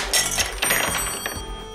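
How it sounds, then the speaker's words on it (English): Marbles drop from a cup onto a bell in an energy transfer machine, giving a quick series of close metallic pings and rattles that leave a ringing tone fading out. "transfers to the cup of marbles that fall onto the bell"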